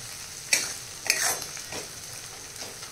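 Tomato frying in a pan for a spicy dal-onion curry, a soft steady sizzle broken by a few sharp spatula scrapes and clinks.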